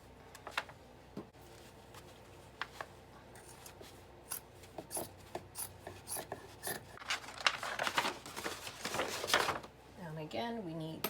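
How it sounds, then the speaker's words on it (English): Scissors cut through denim fabric for patchwork jeans in a string of crisp snips and rustles, the cutting speeding up and growing denser toward the end, with a short burst of voice at the close. "And now let's cut."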